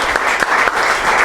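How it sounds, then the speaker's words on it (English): An audience applauds steadily at a chapter gathering, dense clapping from a room full of people, loud and continuous throughout. "So let's give a round of applause for Michael D., Ken, Sonny, and Bill."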